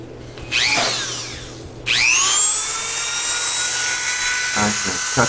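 A small high-pitched power tool whines up to speed twice while cutting the axles loose on a Matchbox Porsche 911 Turbo, each start a rising scream that settles into a steady close whir.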